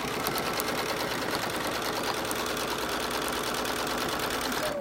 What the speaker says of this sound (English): So we just finished top stitching both sides of the zipper